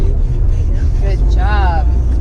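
A manual car downshifts into second gear, its engine rumbling steadily and close throughout, with a voice speaking over it partway through.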